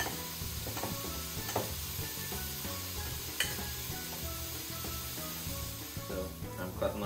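Ground beef being mixed with onion and garlic powder for patties, a soft, faint squishing and rubbing with some light clicks, heard close up and continuous with no talking.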